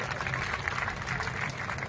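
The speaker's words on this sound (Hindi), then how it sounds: "एक बार तालियां जोर से बताओ साथियों" Crowd applause at an outdoor protest rally gathering, a dense, steady wash of many hands clapping, fairly distant and sustained with a murmur of voices underneath.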